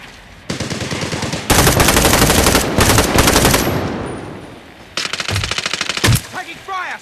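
Automatic gunfire in the video game Medal of Honor Warfighter: loud, close bursts of rapid machine-gun fire, some sustained for several seconds, with brief gaps between volleys.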